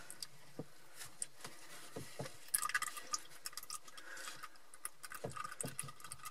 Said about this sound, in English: let all the oil come out as long as possible till it barely drips anymore